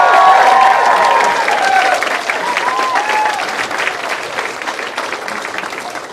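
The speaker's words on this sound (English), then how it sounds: "Can we give one more big round of applause with some whoops?" Loud crowd applause with high whoops and cheers near the start, the clapping slowly easing but sustained throughout.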